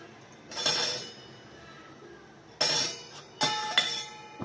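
Several metallic clanks and clinks of a metal cooking pot being handled and set down on a lit stove, spaced apart in a quiet room.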